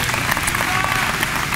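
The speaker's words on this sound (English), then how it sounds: "We should give her a round of applause as well." Audience applause at a campus orientation welcome program, a dense steady crackle of many hands clapping that fills the short moment at an even, fairly loud level.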